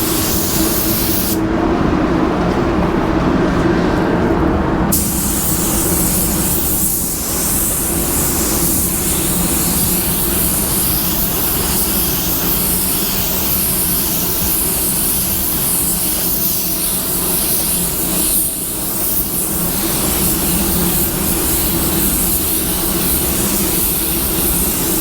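A spray gun hisses continuously while laying base coat on a car panel, close and loud for the whole span, with only brief dips in the steady airy rush.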